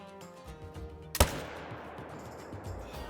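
A single loud rifle shot in the hunting video game Call of the Wild, a sharp crack near the middle followed by a long rolling echo that fades into a quiet outdoor ambience.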